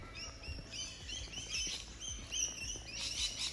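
Small birds chirp and tweet repeatedly among trees in the early morning near Gymea Bay Baths in Australia, a busy overlapping chorus of close, bright calls over soft background rumble.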